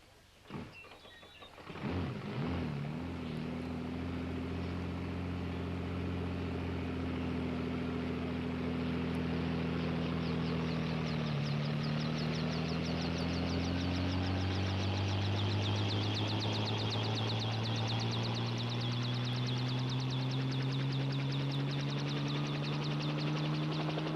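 A helicopter in a highway patrol police drama spins up for takeoff, its engine whine climbing from a starting surge into a loud, continuous droning roar that keeps rising in pitch.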